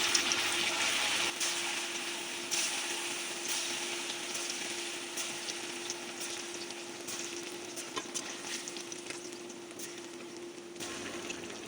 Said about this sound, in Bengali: সবগুলো মোটামুটি অনেকগুলো কোফতা দিচ্ছি এগুলো আমি ভাইজে নেবো ভালো করে